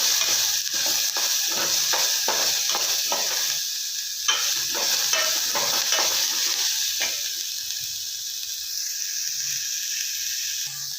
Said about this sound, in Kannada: ಕಟ್ ಮಾಡಿಟ್ಟಿರೋ ಮೆಣಸಿನ್ಕಾಯಿ ಇವಾಗ ಸ್ವಲ್ಪ ಬೇಡ್ಸೋಣ.